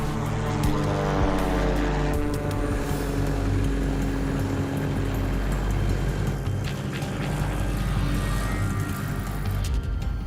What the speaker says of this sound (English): The engine sounds good though so far.